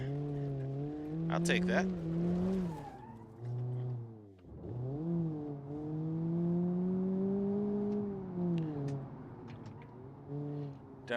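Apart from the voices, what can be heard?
tires skidding in a drift, Ibishu Miramar GTz, video game BeamNG.drive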